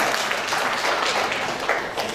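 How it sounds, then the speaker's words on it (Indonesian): Seminar audience at Taman Budaya Yogyakarta applauding during a book launch on Yogyakarta sculptors, a steady wash of many hands clapping for about two seconds without a break. "Boleh tepuk tangan dulu untuk kita semua"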